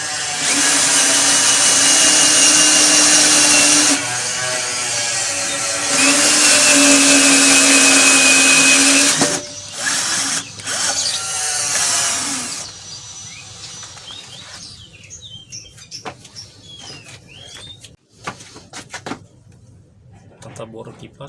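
An EELIC 12V cordless drill fitted with a 20 mm spade bit, set to drilling mode at speed 2, whines loudly and steadily in two long bursts, then drops into short stuttering spurts and stops, with a voice talking over the later part.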